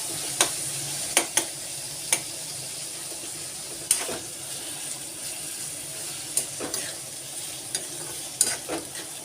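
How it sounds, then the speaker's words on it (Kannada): Crushed ginger goes into a pan for onion-free vegetable upma, a faint steady sizzle with scattered sharp spoon clicks against the pan, close and quiet with no talk. "ಆ ಜಜ್ಜಿದ ಶುಂಠಿಯನ್ನು ಇದರಲ್ಲಿ ಸೇರಿಸ್ಕೊತಾ ಇದ್ದೀನಿ"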